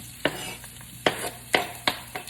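Onion added to a piping-hot pan with cabbage, a soft close sizzle broken by four or five sharp scraping stirs of a utensil against the pan, with no talking.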